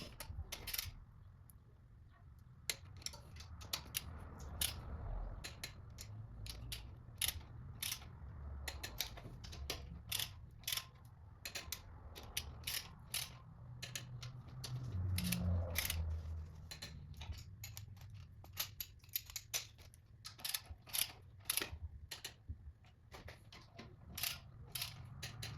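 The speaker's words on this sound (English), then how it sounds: "tighten everything down to 25 foot-pounds for the first" Torque wrench ratcheting and clicking while ARP bolts on LS1 cylinder heads are tightened to a first-stage torque, sharp intermittent clicks at close range over faint workshop rumble.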